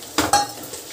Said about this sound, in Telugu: కొద్దిగా పసుపు వేసి కలుపుకుందాం